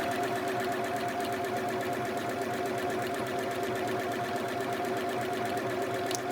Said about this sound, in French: Moi, je vais lancer ici la couture.